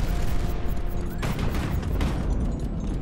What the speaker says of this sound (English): I'm getting distracted by the amount of fire that's coming in.